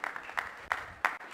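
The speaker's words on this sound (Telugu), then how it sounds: "చప్పట్లు కొడుతూ మనం ఆహ్వానిద్దామండి." Audience applause at a stage ceremony welcoming guests, brief bursts of clapping rising and falling in short swells, moderately close and without speech over it.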